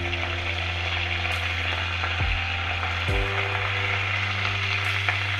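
Green chillies and curry leaves sizzle and crackle steadily in hot oil in a pan, a constant close frying hiss over a low electrical hum, with a couple of brief shifts.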